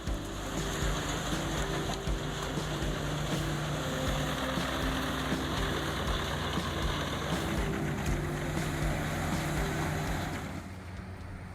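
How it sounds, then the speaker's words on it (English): A large wood chipper powered by a Caterpillar engine, working in a forestry setting, gives a loud, steady mechanical drone with a deep engine rumble. It runs unbroken for the whole stretch and eases off slightly at the very end. "This beast of a machine easily turns wood into valuable scraps, helping to protect the forestry environment."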